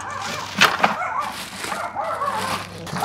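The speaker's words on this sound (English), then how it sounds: "Now there's a dog next door." A dog next door gives a couple of short yips and whimpery barks, moderately near, followed by softer whining sounds.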